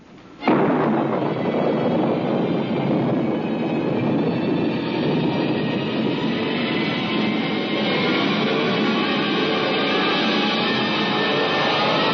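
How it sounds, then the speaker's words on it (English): A rocket blast-off effect for a science-fiction radio drama: a loud, sustained roaring rumble that bursts in suddenly and holds steady and dense throughout, like a continuous engine thrust. "countdown for blast-off"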